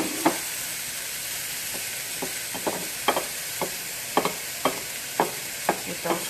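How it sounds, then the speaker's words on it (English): Vegetables frying in a hot pan, a steady close hiss of sizzling oil broken by repeated soft clacks and scrapes of stirring, with no talk. "I'm gonna go ahead and add in the rest of the vegetables."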